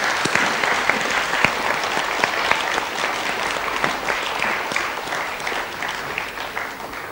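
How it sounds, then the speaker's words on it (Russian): A studio audience applauds on the Russian TV game show Field of Miracles, with dense, close clapping that holds steady for about seven seconds. "Ой, какие аплодисменты."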